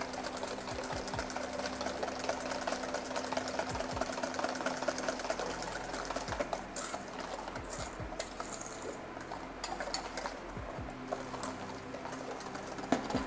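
A mixer beats egg yolks with sugar for pastry, giving a steady continuous whir throughout, with a constant motor hum and faint clinks of beaters against the bowl, and no talking.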